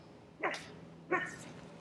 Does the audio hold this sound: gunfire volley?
no